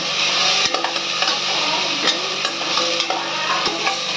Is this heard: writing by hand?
no